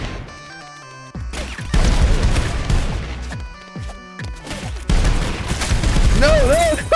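Rapid bursts of video game gunfire crack and crash in a dense, loud barrage, with heavy impacts layered under game sounds throughout.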